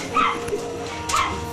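Puppies in an overcrowded, ammonia-smelling puppy room let out a couple of short yips and whimpers, two brief bursts about a second apart, over a steady room hum with no talk.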